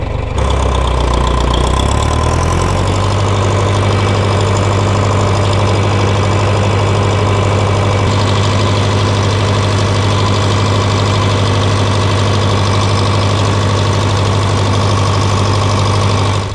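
A tractor engine idles steadily and loudly up close, a constant low throbbing drone that settles after a brief shift in pitch at the start.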